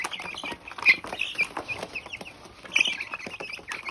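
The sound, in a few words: local chickens clucking on a farm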